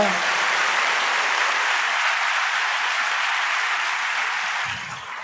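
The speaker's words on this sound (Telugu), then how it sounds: "మీరు చప్పట్లు కొట్టాలనిపించట్లేదా?" An audience at an Independence Day Christian gathering breaks into sustained applause, dense and loud, steady for about four seconds before tapering off near the end.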